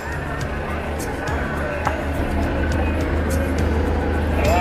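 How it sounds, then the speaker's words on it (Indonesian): Shuttle bus ride carrying a tour group down from the ticket booth at HEHA Ocean View, Gunung Kidul, Yogyakarta: a steady, loud engine drone and road rumble continue throughout, with faint chatter from passengers in the background. "Nah, ini kita naik shuttle bus ya."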